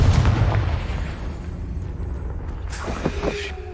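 A Confringo fire spell from Hogwarts Legacy bursts in a loud, close boom with a deep rumbling tail, followed by scattered smaller crackles and pops as the blast fades.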